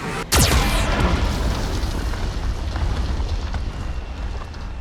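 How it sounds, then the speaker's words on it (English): A Geth cannon from Mass Effect 2 fires with a sudden, heavy boom at the start, then leaves a long, loud rumbling roar that slowly settles. "Geth cannon is locking on our location."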